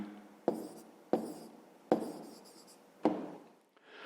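Pen writing on paper while working a fifth-grade fractions exercise, with four distinct quick scratching strokes, each a sharp onset trailing off, close and alone.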